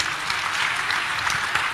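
Audience applause at a morning roadshow in Manado, a steady wash of clapping from a crowd lasting under two seconds, fairly even in loudness with no talk over it.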